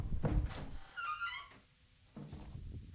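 A door in a video game opens with a heavy thunk followed by a drawn-out creaking, wavering squeal and a second dull knock, moderately loud over quiet ambience.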